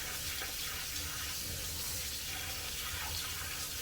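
Steady running tap water rinsing apples soaked in apple cider vinegar in a strainer, a continuous close splashing hiss with no breaks.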